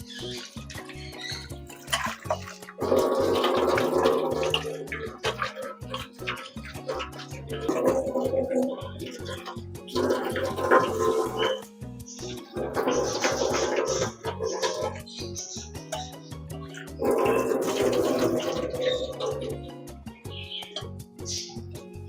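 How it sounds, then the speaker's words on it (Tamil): Raw chicken washed under running water for biryani, several bursts of splashing water from a tap, each a few seconds long, separated by quieter gaps with clinks and handling noises. "சிக்கனை வந்து வாஷ் பண்ணியாச்சு."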